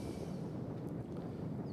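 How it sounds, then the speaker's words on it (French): Wind blowing across an open golf course on Saint-François, a steady, fairly faint rushing roar with low rumble and buffeting, continuous throughout with no voices. "Vous entendez le bruit du vent ?"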